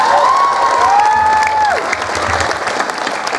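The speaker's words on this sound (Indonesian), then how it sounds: "Tepuk tangan untuk santri dan kiai." An audience at a humorous Sundanese religious sermon claps loudly for santri and kiai. The dense, steady applause lasts a few seconds, with a few cheers and voices rising over it.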